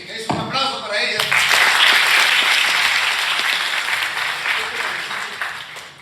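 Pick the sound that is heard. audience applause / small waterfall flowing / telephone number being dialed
audience applause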